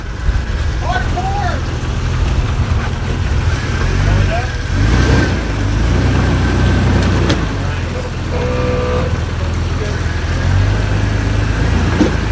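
A Suzuki Samurai crawls a rocky trail at Hell Hole Reservoir, its engine rumbling low and steady with a few mild revs, while people talk over it nearby.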